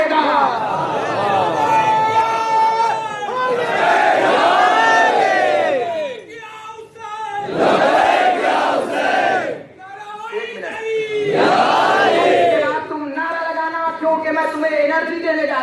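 A large crowd at a Juloos-e-Ammari procession in Kolkata loudly chants the slogan Labbaik Ya Hussain in massed voices, in repeated rising bursts with brief lulls between them.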